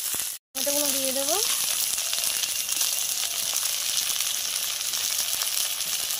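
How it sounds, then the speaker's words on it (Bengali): Tomato and onion fry in a wok with a continuous, close, hissing sizzle that holds steady throughout. A short silent gap comes near the start, with a faint tonal murmur just after it. "টমেটো পেঁয়াজটা ভালোভাবে ভাজা ভাজা করে নেব"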